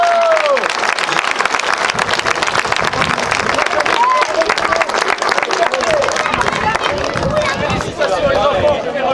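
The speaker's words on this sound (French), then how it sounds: "Les parents, vous pouvez les applaudir très fort." Parents burst into loud, dense applause for their children at a gathering in an abbey, close and sustained clapping mixed with cheering and crowd chatter.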